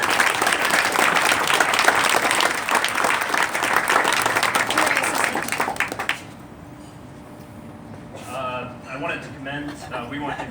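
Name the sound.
audience applause welcoming the jurors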